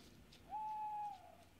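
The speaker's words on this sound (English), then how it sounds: "there was an owl." A single sustained owl hoot drawn out for about half a second inside the horror game Obscuritas, clear over a quiet, hushed background.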